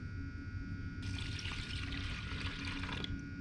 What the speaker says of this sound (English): So I'm going to pour some glue in here.